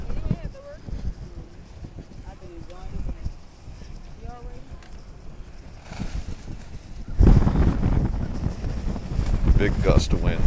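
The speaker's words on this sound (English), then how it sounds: "Big gust of wind there." A strong gust of wind buffets the microphone beside the flood-stage Mississippi River during Tropical Storm Barry, roaring up loudly in the second half after a stretch of quieter blustery rumble with faint voices.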